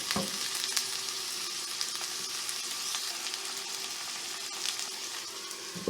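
Chopped onions sizzle in oil in a pan, a steady moderate crackle with a few sharper pops and faint stirring scrapes throughout, with no talking.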